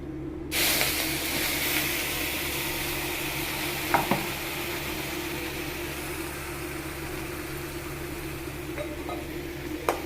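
Ground onion paste dropped into a pan for a quail pepper gravy hisses in a steady, fairly quiet sizzle, with a couple of faint clinks and a low background hum, and no voices.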